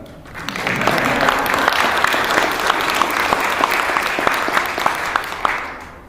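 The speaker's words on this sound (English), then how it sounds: "We can clap." Audience at an opening-remarks event gives sustained applause, dense clapping from a sizable crowd carrying on evenly for around six seconds with scattered sharper claps standing out.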